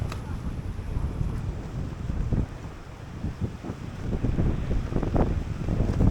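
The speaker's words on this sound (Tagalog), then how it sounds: "Lakas ang hangin dito." Strong typhoon wind buffets the microphone with loud, gusting roars and rumbles, rising and falling over several seconds.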